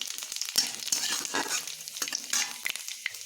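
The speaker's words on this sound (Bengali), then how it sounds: "তেল গরম হয়ে গেছে, ফোড়নে দেব আমি 5 ফোড়ন" Panch phoron, dried red chilli and bay leaf hitting hot oil in a pan, a crackling, spitting sizzle with quick pops and a few spoon scrapes, close and moderately loud over a short burst.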